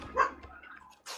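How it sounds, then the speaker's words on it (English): A single short dog bark sounds in the room, fairly close but modest in volume, followed by a brief burst of noise. "No, that's just a dog."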